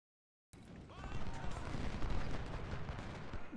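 Artillery booms and rumbles in the Civil War strategy game Ultimate General: Civil War. Sustained, dense cannon fire rolls on after a brief silence, moderately loud and continuous.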